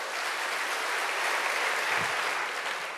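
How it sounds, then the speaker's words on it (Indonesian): A church audience applauds for Jesus, a steady, even wash of many hands clapping at a distance, holding level throughout without pauses. "Tepuk tangan buat Tuhan Yesus kita"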